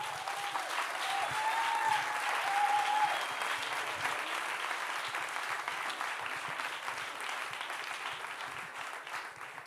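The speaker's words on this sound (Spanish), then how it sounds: "Para todas ellas os pido un aplauso enorme." Sustained applause from the audience at a feminist school panel on international alliances, a steady dense patter of many hands that holds for the whole stretch and eases slightly near the end.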